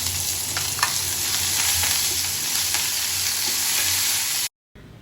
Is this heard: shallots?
yes